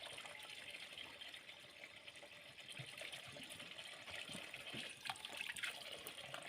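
Cold water running steadily from a tap, a soft continuous hiss and splash that holds fairly even and slightly strengthens toward the end, with no voices.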